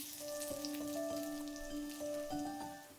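Finely chopped garlic hitting a wok heated to maximum on induction for street-style veg chowmein, giving a soft crackling sizzle with scattered pops over a steady electric hum.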